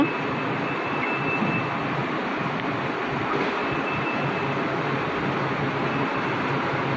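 A Kuala Lumpur metro train rumbles loudly and steadily at a station platform, a continuous close roar of wheels and motors with no talking.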